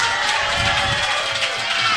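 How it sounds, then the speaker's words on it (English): A wrestling arena crowd roars and cheers after a tag-team win, a dense, steady wash of voices and noise filling the hall. "And the crowd is loving it"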